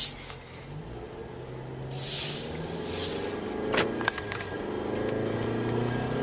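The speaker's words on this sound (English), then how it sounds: "Now we're going to take this 2012 Chrysler 200 for a test drive." A 2012 Chrysler 200 Touring with a 2.4 liter four-cylinder and six-speed automatic on a test drive: soft engine hum and road noise from inside the car, with rustling, clicks and brief hissing bursts, no talk.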